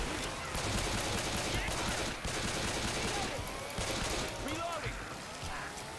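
Gunfire in the video game Armello, bursts of rapid shots and impacts crackling through a busy mix while players talk over the action.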